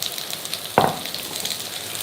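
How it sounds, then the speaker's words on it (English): Spring onions frying in a pan for a Cantonese chicken dish, a steady close sizzle with one brief louder crackle as something hits the hot oil, no talking. "you'll smell the spring onion in a second as it's frying"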